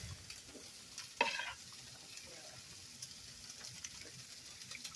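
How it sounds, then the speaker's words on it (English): A spoon stirs jarred Heinz gravy in a pan on the stove, producing a soft, quiet scraping and bubbling with a gentle sizzle and one brief louder clink. "Give it a good stirring."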